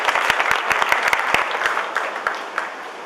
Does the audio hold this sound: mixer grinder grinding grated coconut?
no